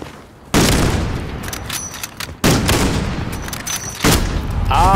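Bursts of gunfire in Call of Duty Modern Warfare on PS5, three loud, close volleys of rapid shots separated by short pauses, with sharp booming impacts and no speech over them.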